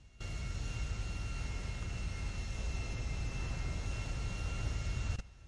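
Steady, loud helicopter rotor and engine roar from a GTA V video game fills the whole clip with a constant broadband rumble, cutting off abruptly near the end.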